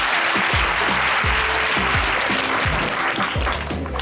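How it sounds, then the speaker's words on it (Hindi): Applause from a crowd of students at an inter college event, a steady dense clapping that fills the whole stretch at close range and fades slightly at the end. "फिर से तालियां"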